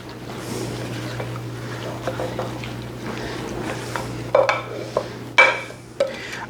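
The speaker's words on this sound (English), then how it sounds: "Put our marshmallows in there. And we can give this a stir." A spoon stirs a Jell-O fruit salad with marshmallows and oranges in a bowl, making soft squishy stirring sounds with a few sharper clinks and knocks toward the end over a low steady hum.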